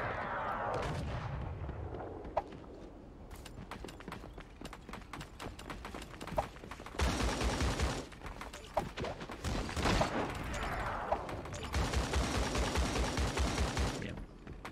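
Bursts of gunfire in the shooter game Creative Destruction, with scattered single shots and a couple of dense rapid volleys, some close and loud, others thinner, over quiet game background.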